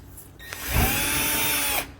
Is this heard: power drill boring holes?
yes